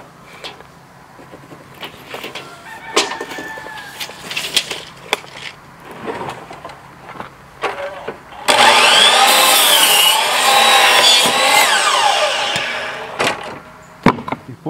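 A saw cuts the rotten end off an old barn board, first with scattered knocks and handling, then a loud, steady rasping cut that runs for about six seconds close by.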